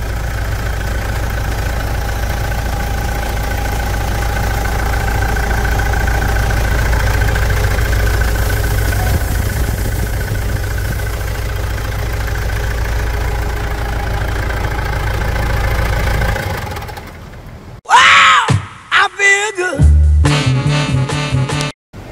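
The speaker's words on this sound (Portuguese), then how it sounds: "Escuta o motor, não, escuta a melodia." A Mitsubishi Pajero Dakar 3.2 diesel idles steadily and close up after a service with valve adjustment and automatic transmission fluid work, a constant low rumble lasting about seventeen seconds before giving way to brief, sharper handling noises.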